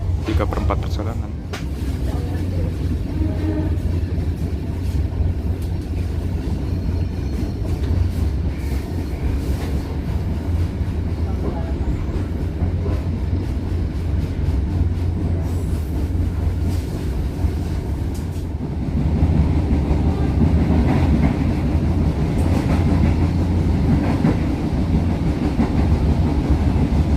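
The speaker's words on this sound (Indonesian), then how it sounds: "barusan kereta api Moti Selatan sudah melintas di stasiun Magetan" A train on the Jakarta–Madiun route near Magetan station gives a loud, continuous rumble and rattle throughout, swelling noticeably heavier for the final stretch.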